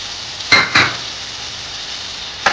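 Beans, carrot and capsicum stirred in a pan for egg Maggi give a soft background sizzle broken by three sharp utensil scrapes and clinks against the pan, two close together early and one near the end.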